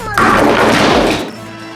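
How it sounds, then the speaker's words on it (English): A bat swung into LEGO figures, one loud close thunk and crash with a clattering burst that quickly dies away into quiet room tone. "let's test if they will survive a swing with a bat"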